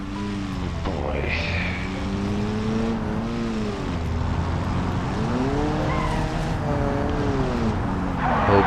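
Engine drone of a kit car platform driven in the BeamNG driving game, pitch rising and falling as it speeds up and eases off, loud and continuous, with a short squeal near the start.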